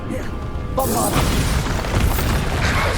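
A Bombarda spell explosion in the Hogwarts Legacy video game bursts in with a loud boom and then rumbles on under steady combat noise.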